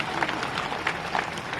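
Crowd applause at a political rally, a dense, steady patter of many hands clapping at moderate volume throughout, with no talk over it.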